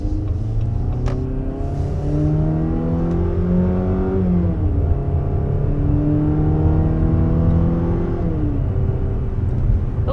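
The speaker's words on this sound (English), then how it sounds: "Okay, so now we're up to 60 miles per hour with this 2022 Compass" A 2022 Jeep Compass Limited Elite accelerates steadily toward highway speed, its engine note rising in pitch through gear shifts, loud and continuous from inside the cabin with road rumble underneath.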